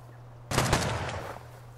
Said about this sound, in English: hearing a lot of gunfire